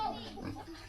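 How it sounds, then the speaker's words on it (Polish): A small pig in a rural Philippine village gives a brief, faint grunt up close, a single short snort over quiet background. "O, a tam mały prosiak."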